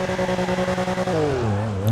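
A 2015 BMW M4 engine in GTA 5 idles with a rhythmic pulsing rumble, then revs up smoothly toward the end, fairly close and alone.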